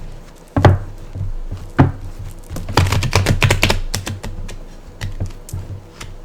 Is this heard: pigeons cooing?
no